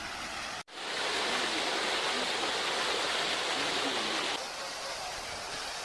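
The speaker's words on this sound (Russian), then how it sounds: "Центральный фонтан с подсветкой." The illuminated central fountain in Heydar Aliyev park at night, a broad steady rush of falling and splashing water after a brief dropout, fairly loud and continuous before easing slightly near the end.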